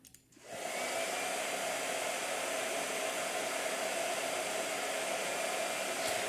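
A blow dryer switches on and runs with a steady, loud whooshing roar that holds at even strength for several seconds, with no talking over it.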